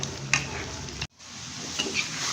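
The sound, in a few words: frying perkedel until browned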